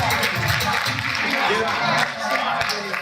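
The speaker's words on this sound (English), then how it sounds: "Give them another big round of applause." A high school assembly crowd gives volunteers a round of applause, a dense wash of clapping and murmur with a voice speaking over it.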